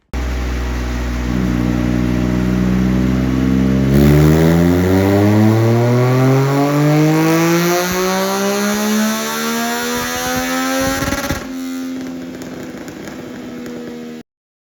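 A 2022 Yamaha XSR900 motorcycle with a Spark exhaust, sprint filter and modified air box revs hard on a dyno, its loud engine note climbing steadily through a full pull before dropping back to idle, with no talk.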